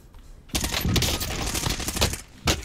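A rapid burst of automatic gunfire from the Call of Duty Warzone battle on Rebirth Island, loud and close, cracking out for about two seconds after a short quiet start and ending in one final shot.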